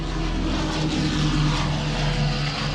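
A WWII RAF fighter, Spitfire or Hurricane, drones with a steady, loud piston-engine roar, a low rumbling hum that holds constant without pause.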